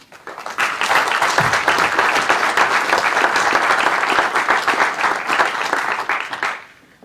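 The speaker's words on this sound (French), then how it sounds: "donc merci Valentina, je crois qu'on peut l'applaudir." Applause at a council meeting of an urban community: a room of people claps loudly and steadily for several seconds, swelling quickly, holding, then fading out at the end.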